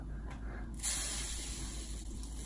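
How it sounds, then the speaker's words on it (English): Salt is poured onto ice cubes for bag ice cream, making a steady granular hiss with a brief louder burst partway through. No talking is heard over it. "we're gonna put a 1/3 cup of salt, which will help the freezing of the ice cream"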